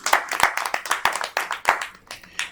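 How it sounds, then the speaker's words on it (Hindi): A small group claps in rapid, uneven bursts of applause at a Hindi poetry recital, close and lively, lasting only a moment. "जोरदार तालियां"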